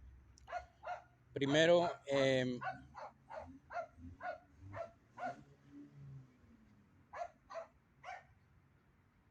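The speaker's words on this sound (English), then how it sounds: "no sé si me van a oír con el perro, está ladre y ladre" A dog barks repeatedly near a home, sharp yaps coming in irregular bursts with two louder, longer barks early on, while a person speaks briefly between them.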